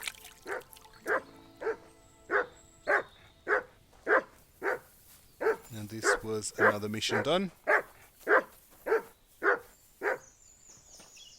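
A dog in the medieval video game Kingdom Come Deliverance II barks in a steady series of sharp, evenly spaced barks at close range, continuing while a person talks over part of it.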